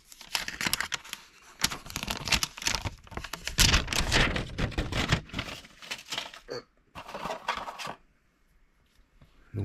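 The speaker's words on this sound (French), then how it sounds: "On va enlever tout de suite le papier dessus." Protective paper is peeled off a black Xiaomi 15 smartphone, giving close, loud crinkling and tearing rustles in dense bursts that stop briefly near the end and then resume more quietly, with no talk.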